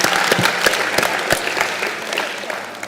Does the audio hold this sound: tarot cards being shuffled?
no